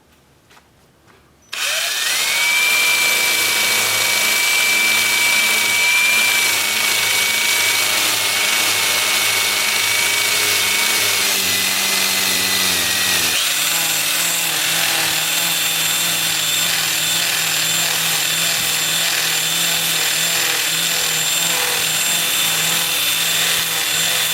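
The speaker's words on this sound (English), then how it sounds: "So I'm just going to sand this because it's quite sharp." A power tool sands a turned wooden piece with a steady, loud whir that holds unbroken for over twenty seconds after a sudden start, its pitch dropping partway through as the load changes.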